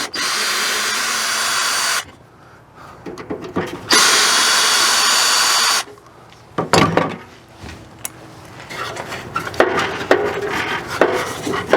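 A power drill removing screws from a Girard water heater, loud whirring bursts separated by pauses, then metallic clatter and handling noises up close.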